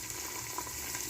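Finely chopped ginger pieces fry in hot oil with a faint, continuous sizzle, heard briefly and alone.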